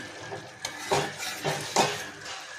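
Dry cauliflower and potato curry is stirred in a pan: a spoon scrapes and knocks in several rhythmic strokes over a soft sizzle, close and fairly loud, with no talking.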